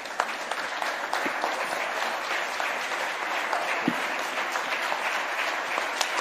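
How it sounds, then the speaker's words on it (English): A standing ovation for ISRO scientists at an awards stage event: a large crowd claps steadily and evenly, somewhat distant and moderately quiet, with occasional sharper individual claps. "we need to have a standing ovation for..."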